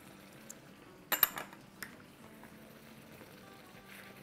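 A spoon scrapes and clinks briefly in a pan of softened tomatoes with crushed ginger and garlic for karahi chicken, a short cluster of faint stirring knocks over a quiet background.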